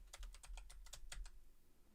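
Rapid keystrokes on a computer keyboard, about nine crisp evenly spaced clicks over a low steady background hum, close and fairly quiet, typing a short word into a search field.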